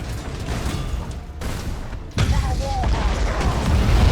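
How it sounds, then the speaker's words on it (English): A Nova Cannon strike on a space station in Battlefleet Gothic Armada 2 lands with a sudden heavy boom, then sustained rumbling impact noise over the ongoing space-battle ambience, with a voice talking faintly underneath. "They're dumping a Nova Cannon on our station as well"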